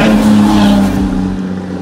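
A Seat Arona 2018 engine revs loud and close, a sustained steady drone that holds for nearly two seconds before easing off slightly, with no talking.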